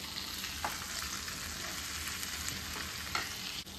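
Pomfret fish fries in a pan with a steady, even sizzle that holds throughout. A few faint clicks sound over it, and no one speaks.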